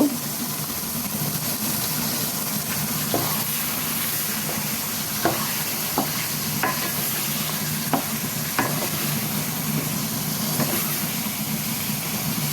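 Beef frying in a pan with sweet chili peppers and onions while it is stirred, a steady close sizzle with scattered sharp scrapes and clicks from the spoon against the pan.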